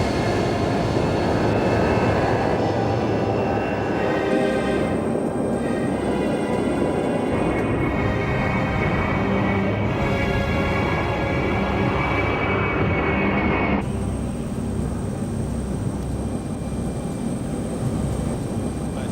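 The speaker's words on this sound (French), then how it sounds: "le pilote d'essai de ce Bereyev A40, va mettre toute la puissance" A Beriev A-40 amphibious jet aircraft runs its engines up to full power, heard from inside. The engine roar is loud and continuous, with a high whine that shifts in pitch as the thrust builds, and no one speaks.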